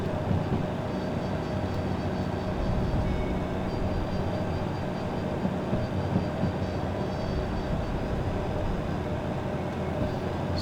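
DH4 diesel locomotive from the video game Derail Valley running steadily, a continuous dense engine rumble and rolling rail noise that holds at an even, loud level throughout without pauses.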